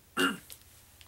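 A single short throat-clearing cough, close and fairly loud, followed by quiet breathy sounds.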